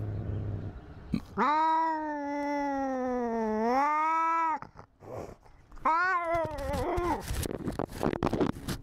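Cartoonish cat from the Maxwell the Cat video game giving two long, drawn-out meows, the first sustained and wavering, the second shorter and rising, loud and close against faint background noise.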